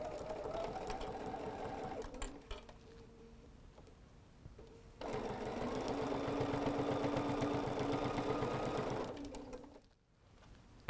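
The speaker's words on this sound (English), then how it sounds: "Definitely backstitch, secure that." A sewing machine stitches and backstitches a quilted hot pad, its motor whirring in close bursts with a short pause between runs, quiet overall and with no talking.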